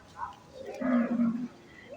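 Cattle at a livestock market in Khon Kaen, Thailand, with one low, drawn-out moo of about a second rising faintly above background murmur and voices.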